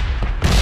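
Brief, loud burst of an in-game explosion in PUBG on the Miramar desert map, a sharp booming blast with crackling gunfire-like texture lasting under a second.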